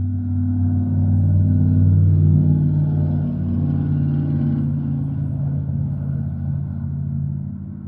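A loud car rumbles past nearby, a deep steady engine roar that swells and then slowly eases off over several seconds.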